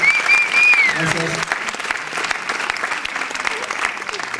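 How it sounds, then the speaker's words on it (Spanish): Steady, dense audience applause fills an album presentation in Ceutí, with a brief high whistle near the start and voices murmuring in the crowd as the clapping carries on evenly. "Un aplauso grande."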